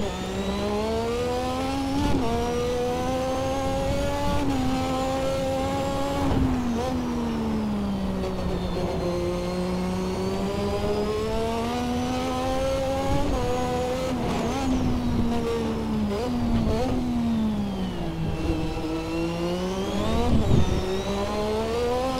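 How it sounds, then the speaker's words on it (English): A Lotus 98T turbo Formula One car spins its wheels in third gear while climbing uphill, its engine a loud, close, rising and falling howl that swells and dips repeatedly as it strains for grip over about twenty seconds. "That's wheel spin in third gear, going uphill."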